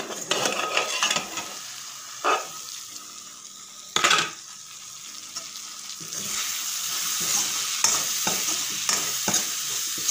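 A spoon stirring rice cooking in a pot, scraping and clacking in irregular strokes over a soft background hiss, with a few louder knocks against the pot.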